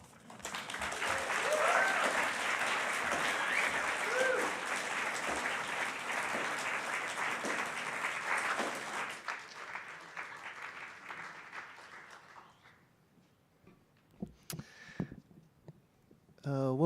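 Audience applause at a Naropa University Summer Writing Program reading, dense, sustained clapping for about nine seconds that thins out and fades to scattered claps.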